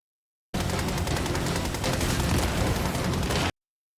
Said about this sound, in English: This has to be the Halo 3 assault rifle.